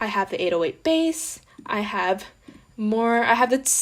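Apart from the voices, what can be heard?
No everyday noise stands out behind the speech.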